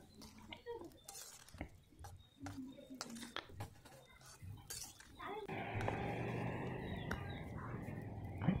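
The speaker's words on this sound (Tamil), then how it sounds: "இப்போ நம்ம குழம்புக்கு தேவையான தண்ணி ஆட் பண்ணிக்கலாம்." Water poured into a pot of small-onion kuzhambu curry, a steady splashing pour rising after several seconds of quieter kitchen sounds and muffled talk, then continuing loudly to the end.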